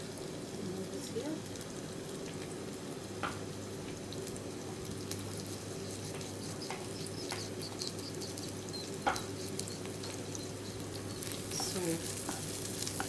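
Liver and onions sizzle and fry in a pan while being stirred, a steady crackling hiss running throughout with occasional scraping clinks, heard beneath a woman's speech.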